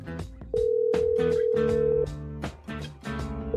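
A phone call rings out in the horror video game The Stalked, with a steady electronic tone held for over a second amid other layered game sounds and short beeping pulses.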